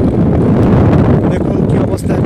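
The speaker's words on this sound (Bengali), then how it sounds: "এখন প্রচুর বাতাস, সেই সঙ্গে বৃষ্টি।" Strong wind with rain on a village riverbank roars and buffets the microphone loudly and continuously while someone talks over it.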